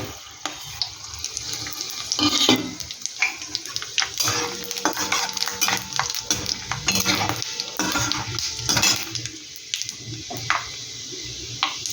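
Whole garam masala spices and panch phoron sizzle in hot oil as a spoon stirs and scrapes the pan, with steady frying crackle and intermittent clinks throughout.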